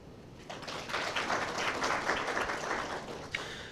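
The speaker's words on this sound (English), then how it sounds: "Big round of applause for her." An audience at a panel discussion event breaks into applause, swelling from quiet into a moderate, steady patter of many hands clapping, with a sharp clap standing out near the end.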